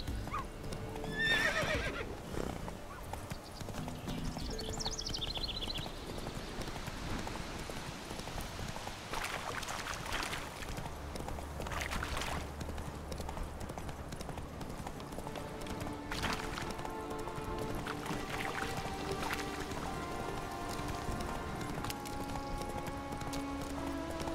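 Roach, a horse in The Witcher 3, clip-clops at a steady gallop with several whinnying neighs rising over the hooves, all under continuous game music and ambience; a brief voice is heard near the start.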